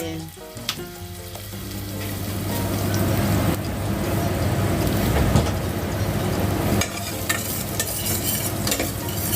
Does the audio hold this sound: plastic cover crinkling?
no